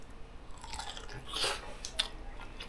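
Crunchy fruit, harvested that same morning, is chewed close to the mic in a few crisp bites that peak about halfway through, with no talking.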